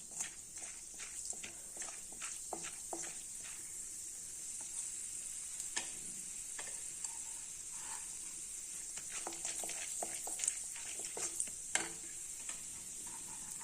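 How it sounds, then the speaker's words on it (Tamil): Chana dal dry-roasts in a pan for masala rice, heard as a faint, steady hiss with repeated scraping and tapping of a spatula stirring the lentils, close by and without speech. "கடலைப்பருப்பு வந்து வறுக்காத பருப்புங்கிறதுனால முதலே போட்டுட்டேன் கொஞ்சம் வறுபடட்டும்"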